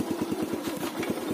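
A motorcycle engine runs during a beginner's riding lesson, chugging in a quick, even pulse at a low, steady idle for a moment with no talk.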